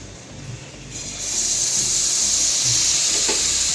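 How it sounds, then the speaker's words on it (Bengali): Gram flour batter drops for sweet boondi fry in a pan of hot oil, giving a steady close-up hiss and sizzle that swells louder after the first second and stays strong. "চলুন এইভাবেই আমরা বাকি বোঁদেগুলো সব ভেজে নেব"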